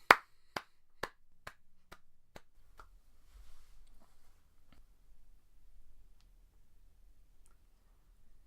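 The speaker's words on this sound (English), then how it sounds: "And there was Santa, clapping." Santa's hand claps ring out as a burst of about eight sharp, evenly spaced claps that slow and fade over the first few seconds, followed by quiet low rumble.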